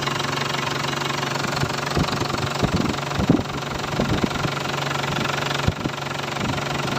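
An Isuzu D-Max engine idles in close view, a steady low drone with a fine ticking, knocking texture and a few slightly louder irregular knocks, constant throughout with no talking.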